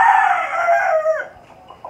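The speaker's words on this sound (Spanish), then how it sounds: "Ahorita los gallos por eso están ahí cantando." Roosters crow loudly and close by while they are being fed. One long, strong crow trails off, followed by a few soft clucks.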